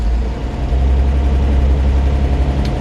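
A 1950 Chevrolet 3100 pickup engine idles close by after the choke was pulled, a loud, steady, low rumble with an even throb and no voices.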